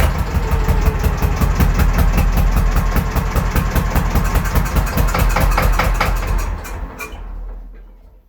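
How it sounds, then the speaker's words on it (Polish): A Zetor C-330 tractor engine runs close and loud with a rapid, even chugging pulse, then cuts out and fades into quiet near the end. "traktor zagodał, zapolił ładnie"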